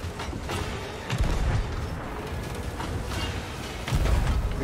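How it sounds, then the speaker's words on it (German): Cannon fire from skeleton ships in the video game Sea of Thieves: two deep booming blasts, one near 1.2 seconds and another near 4 seconds, over a steady rumbling game soundscape with no talk. "die können viermal auf einmal schießen"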